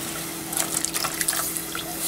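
Water pours into a slow cooker for chicken tacos, a close, continuous splashing trickle with small bubbling spatters over a steady low hum.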